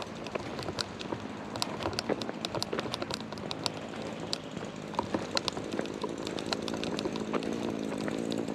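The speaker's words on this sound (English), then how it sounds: "the sound of the weed whacker in the background leaves a little bit to be desired" A weed whacker drones steadily in the background near a driveway in a walled French town on the Camino de Santiago, a constant buzzing motor with scattered sharp ticks and clatter over it, no one talking.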